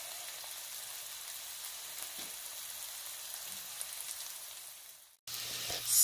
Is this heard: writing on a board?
no